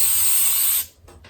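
Cooking spray hisses loudly in a steady burst from an aerosol can while coating the inside of a mold for Rice Krispies treats, then stops abruptly and is followed by a couple of short puffs.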